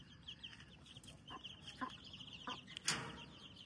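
Farm hens cluck in short, scattered calls inside a poultry shed, faint and somewhat distant over a steady background hum, with a louder squawk near the end.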